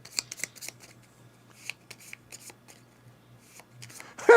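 Playing cards riffled and shuffled by hand at a table during a five-player Power Grid Korea board game, a run of crisp rustling bursts with a low steady hum beneath and a louder clack at the end.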